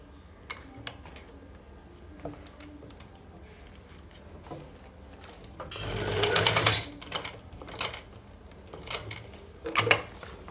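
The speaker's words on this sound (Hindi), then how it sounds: "अब इसको ऐसे करके अब यहाँ पे हम सिलाई लगा देंगे।" Sewing machine running a line of stitches along an elastic pant waistband, a short rapid mechanical burst of stitching amid scattered clicks and taps of fabric handling, close up with no talk.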